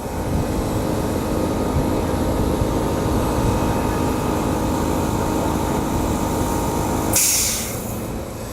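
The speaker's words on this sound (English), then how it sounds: "1-to-1 caulking gun, air operated, because you don't want the guys squeezing with their hand all day" An air-operated 1-to-1 caulking gun pushing two-part MMA grout through a mixing tube for a paver floor, a loud continuous pneumatic hiss and hum, ending in a short sharp release of air.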